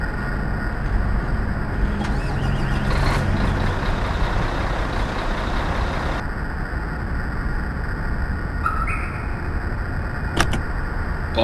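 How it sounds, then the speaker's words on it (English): A fuel truck arriving at a Boeing 787 on the airport ramp, a loud steady engine rumble with a hiss of air brakes and a few brief high beeps near the end, no talking. "Ground requesting fuel truck"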